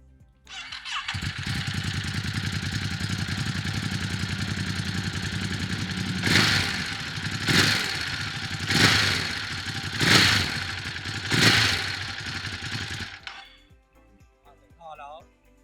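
A Ducati Hypermotard 950 RVE with Termignoni exhaust starts up and settles into a steady, loud idle, then gives four evenly spaced throttle blips before the engine shuts off.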